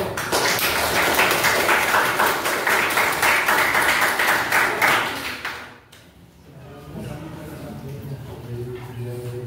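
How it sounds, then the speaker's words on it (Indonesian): Lively applause from an Indonesian classroom audience, dense clapping for about five seconds before it fades out, followed by voices talking. "tepuk tangan yang meriah"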